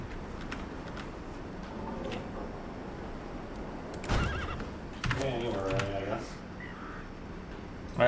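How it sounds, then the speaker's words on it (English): A horse neighs in the survival game Conan Exiles, a short whinny near the middle followed by a longer, rising call, loud over steady game ambience with faint clicks. "I made a horse noise when I planted it"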